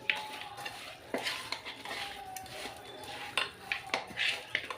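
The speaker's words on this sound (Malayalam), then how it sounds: "ഞാൻ ഒരു കൈ കൊണ്ട് തന്നെ ഇളക്കാൻ പോകും" Roasted-coconut chicken curry is stirred in a pan, making a quiet, uneven run of scrapes, clinks and soft sizzling close by.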